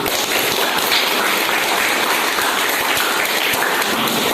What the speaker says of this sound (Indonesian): Sekali lagi tepuk tangan dulu.